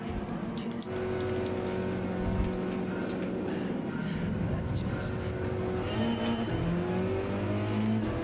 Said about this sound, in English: I'll change the engine sound so you can hear it way better.